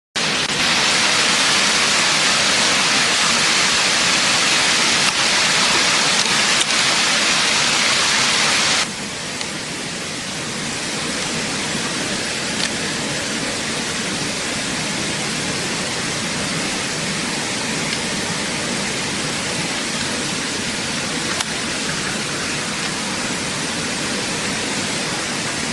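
Waterfall and stream in a forest, a loud, continuous broadband rush of falling water that drops slightly in level partway through, then carries on steadily with no voices.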